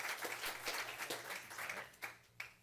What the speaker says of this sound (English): Give her a round of applause for all her hard work